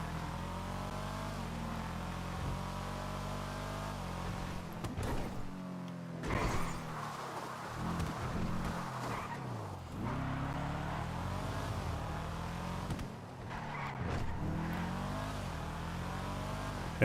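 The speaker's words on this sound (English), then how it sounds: "we're using the fastest tuner car in the game" A tuner car engine in GTA 5 Online revs and roars continuously, shifting through gears as it accelerates hard, with no one speaking.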